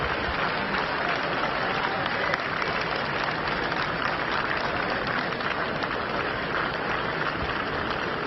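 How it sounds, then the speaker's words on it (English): A large crowd cheers and applauds at Royal Ascot as the Queen arrives in the paddock with the royal carriage procession, a dense, sustained wash of clapping and cheering heard from within the crowd. "you can hear the cheer as she arrives"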